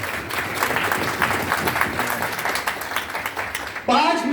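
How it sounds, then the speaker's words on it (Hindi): Loud, continuous applause from a seminar audience in a hotel hall, sustained steadily for several seconds before a brief break, with voices mixed in. "साहिल, अमृत जी और अंकुश जी के लिए एक बार जोरदार ताली बजाइए।"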